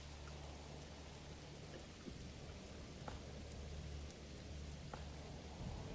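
Steady rain from the video game Manor Lords falls as a constant hiss, with a few soft, distant rolls of thunder rising now and then. There is no talk.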